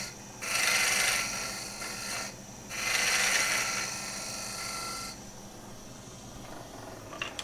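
A wood lathe turning a spindle during a live turning demonstration gives a steady mechanical hum, with two louder rasping bursts of tool cutting against the spinning wood before the work quiets to a lower running drone.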